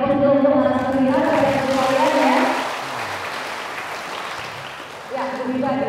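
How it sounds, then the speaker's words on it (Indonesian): An audience claps for a guest at a health talk show in Bandung; a steady wash of applause rises between stretches of speech, with a voice talking before it and again as it dies away. "Mari kita beri tepuk tangan untuk narasumber kita"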